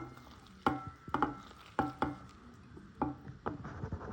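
Chopped vegetables, curry leaves, mint and coriander are mixed by hand into a thick lentil vada batter in a bowl, giving soft, wet squelching and patting sounds in an uneven rhythm, quiet and close, with no talk.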